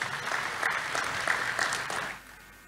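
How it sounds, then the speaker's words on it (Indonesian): A church congregation applauds for Jesus during a sermon, a dense crowd of clapping that holds steady and then fades out near the end, with no talk over it. "Tepuk tangan buat Tuhan Yesus."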